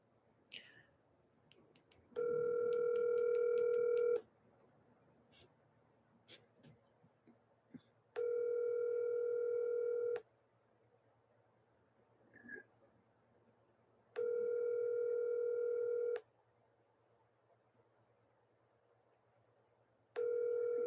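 Telephone ringback tone repeating on an outgoing call, four steady two-second rings spaced about four seconds apart with a faint hum and small clicks between them.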